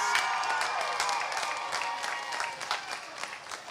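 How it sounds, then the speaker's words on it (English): A commencement crowd applauds the new graduates, a dense, continuous wash of clapping with scattered cheers, heard at a distance in a large venue. "Let's give them all a round of applause."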